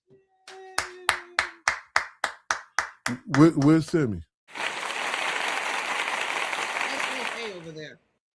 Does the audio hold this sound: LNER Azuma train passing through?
no